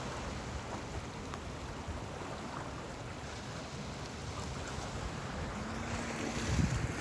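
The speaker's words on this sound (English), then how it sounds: "So, not as loud today with the waves." Ocean waves wash steadily against the shore by a breakwater in Israel with broad rushing noise, mixed with wind buffeting; the surf swells a little louder near the end.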